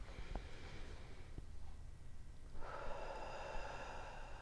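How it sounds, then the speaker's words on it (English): A slow, deep inhale through the nose, close and soft, rising as a steady airy rush in the second half after a quiet pause with faint taps. "So let's go ahead and take a breath in."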